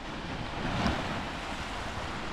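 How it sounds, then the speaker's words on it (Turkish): Strong wind roaring across the microphone by the sea at Akbük, Muğla, a continuous broadband rush with surf beneath, steady and loud throughout. "Oo çok rüzgarlı bugün hava."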